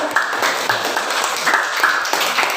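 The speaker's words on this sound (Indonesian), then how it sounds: "tepuk tangan untuk kelompok 1" Students clap for a classroom group after its presentation, a steady patter of hand claps lasting the whole stretch with no talk over it.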